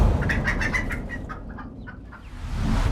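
Chickens cluck loudly in a rapid burst of close calls, then fall quieter before another rise of clucking at the end.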